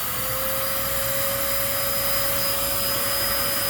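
A Kenmore Magic Blue vacuum cleaner runs at full power during a suction test, a loud, steady, close whine with a high tonal pitch and no variation or talk.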